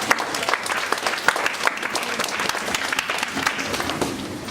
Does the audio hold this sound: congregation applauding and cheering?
yes